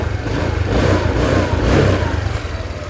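A Honda Click 125i scooter idles steadily just after a cold start, a continuous close, even engine hum with a slight rise in the middle and no talking.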